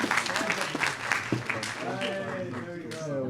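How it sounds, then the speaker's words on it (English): An audience at a video game demo event applauds while voices keep talking over the steady, moderate clapping. "Please, round of applause for these people."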